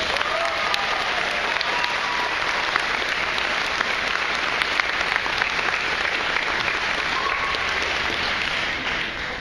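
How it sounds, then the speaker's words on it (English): Sustained applause from a concert audience for sixth grade music students, a dense, even roar of many clapping hands that holds loud and full for the whole stretch before easing slightly at the end. "So give them a round of applause."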